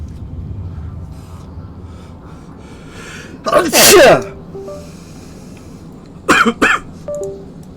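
An in-game character's sneeze in Star Wars: The Old Republic, two loud, abrupt bursts about three seconds apart, heard over a low steady background hum.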